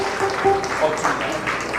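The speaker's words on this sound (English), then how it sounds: "Please give her another round of applause." An audience at a Lisabi Night celebration gives a short burst of applause, with voices and a tonal sound audible through the clapping.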